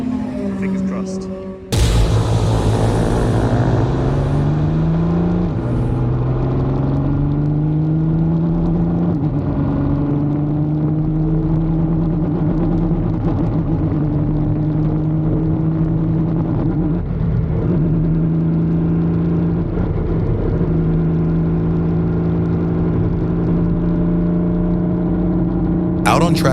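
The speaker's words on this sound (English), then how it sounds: "Out on track for the second time, Rob immediately senses something is wrong. The car is running rough and lacks power." A racecar engine running rough and lacking power out on track, loud and continuous with a wavering, uneven drone that rises and steps through revs for nearly half a minute, close and unbroken.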